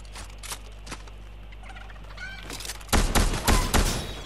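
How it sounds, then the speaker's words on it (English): A golden chicken in the Fortnite video game clucks and gobbles in quick, faint bursts, followed by louder rapid popping like gunfire, under a steady low in-game hum. "Oh, golden chicken."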